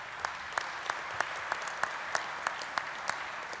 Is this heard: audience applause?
yes